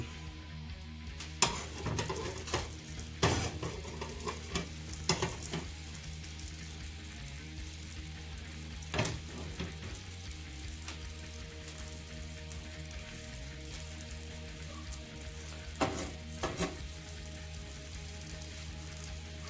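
A Reuben sandwich fries in a pan with a soft, patchy sizzle and crackle. Occasional clinks and bumps of cookware come through, quiet and close, with no voices.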